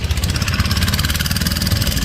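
A motor boat engine on a river trip toward the Omkareshwar temple runs with a steady low-pitched idling throb that stays loud and close throughout, with no voices over it.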